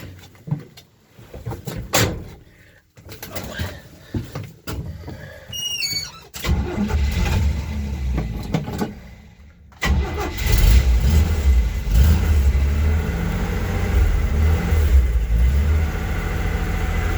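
A 1984 Chevy C10 pickup with a six-cylinder engine and three-speed cranks with a few starter whirs, catches, and settles into a loud idle with revs, heard close up and alone.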